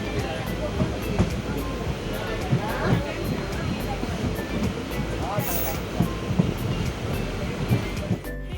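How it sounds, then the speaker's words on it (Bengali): A passenger train pulls slowly out of Buniyadpur station, bound for Siliguri, giving a continuous rolling rumble with a soft rhythmic clatter of wheels. A faint hiss of air and wind runs throughout, heard close from inside the carriage. "আস্তে আস্তে করে ট্রেন এগোচ্ছে।"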